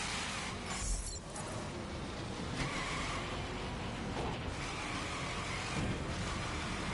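Car engine in the racing video game The Crew, a steady continuous drone held at an even level for the whole stretch, with no speech over it.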